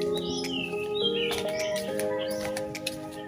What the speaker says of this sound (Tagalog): Maganda dito guys kasi maraming ibon.